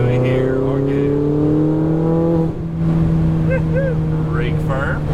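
A Ferrari 488 GTB engine rises in pitch under throttle, then briefly dips and picks up again as the driver squeezes back on the power, loud and close from inside the cabin.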